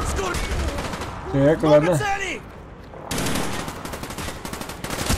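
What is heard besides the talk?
gunfire in the video game Call of Duty Black Ops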